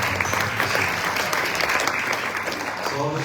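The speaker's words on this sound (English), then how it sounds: "A round of applause." An audience at a Hindu religious talk during a South African tour breaks into dense, steady applause, loud and sustained throughout.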